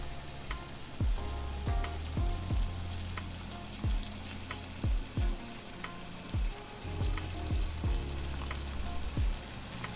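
Chicken livers cooking down in a pan for pâté, a constant crackling sizzle heard close, with soft, irregular bubbling pops over a low steady hum, and no voices.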